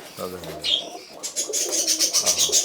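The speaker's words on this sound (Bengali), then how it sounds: "এগুলো দেশি পায়রা দেশি পায়রা আর কিছু বিদেশি কবুতর আছে" Domestic pigeons cooing on a rooftop garden with silkie chickens nearby; a few soft, rolling coos and brief chirps sound close by while people talk over them.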